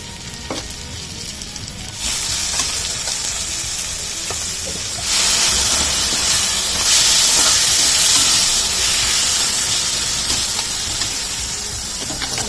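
Chopped tomatoes hit hot spiced oil in a pan while fish fry is being made, a steady loud sizzle that jumps louder in two steps as more goes in, with occasional stirring clinks and no talk.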